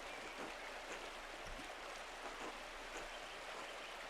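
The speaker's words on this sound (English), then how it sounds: "Waterfall's too loud, I can't hear much." Steady broadband rushing water from a waterfall in the Pentiment video game, a constant even wash running throughout with no clear breaks.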